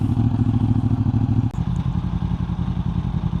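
A Yamaha R1 Carbon sport motorcycle engine, already warm, runs close by with a steady throbbing idle and a brief thump partway through as the tone shifts.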